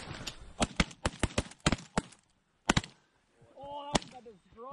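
Rapid volleys of close, sharp shotgun blasts during a goose and duck hunt, several shots in quick bursts with a brief pause, followed by people talking.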